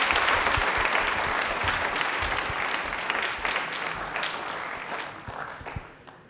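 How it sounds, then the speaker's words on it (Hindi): A studio audience bursts into loud, sustained applause for Anamika on a televised general-knowledge quiz show, dense clapping filling the room and slowly tapering off at the end. "मैं आज तालियां एक बार जोरदार हो जाए अनामिका के लिए।"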